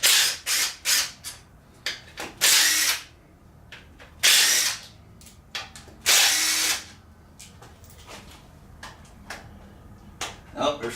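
Cordless DeWalt power tool removing bolts during an LS engine teardown. Loud, close bursts of several kinds come in an irregular stop-start pattern, some short and some lasting about a second, with quiet clicking and shop noise between them.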